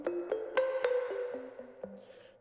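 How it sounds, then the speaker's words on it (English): Plucked or struck melodic notes sent through a plate reverb effect in Ableton Live 11 while building a type beat, each tone ringing into a long smeary tail that fades out over a couple of seconds, with no talk. "I've said many times here that I'm a fan of this plate reverb."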